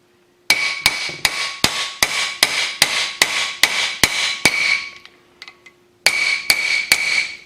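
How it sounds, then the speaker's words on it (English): Steel hammer tapping a wheel bearing into place on a Ford F150, a steady series of sharp, ringing metallic strikes about three per second, a brief pause, then several more taps, close and loud with no talking. "grab my hammer, and make sure it's straight, and just slowly tap it in"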